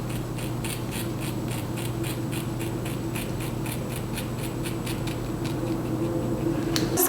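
Scissors snip through a wig's hair in a steady series of short, crisp, close cuts over a low background hum, with no one talking.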